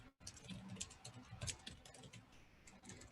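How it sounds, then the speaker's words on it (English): Rapid, uneven keystrokes on a computer keyboard rattle close by for about three seconds, with a brief gap near the start and no talking. "Sorry, my typing is terrible today."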